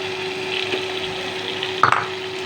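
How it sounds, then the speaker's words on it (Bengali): Fish frying in a sautéed paste of coriander, chili and cumin powders gives a soft steady sizzle, with one brief clunk of utensil near the end and no talk. "মশলা কষানো হয়ে গিয়েছে, এর মধ্যে মাছটা ছেড়ে দেব।"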